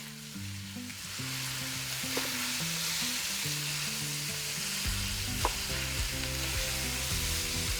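A cheeseburger skillet with paprika sizzles steadily in the pan while a spoon stirs it, with a couple of sharp scrapes against the bottom.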